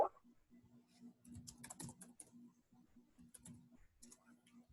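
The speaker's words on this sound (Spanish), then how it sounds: "ya escuché el teclado" Faint, rapid keyboard tapping in bursts, with a soft hum and a voice murmuring quietly in the background.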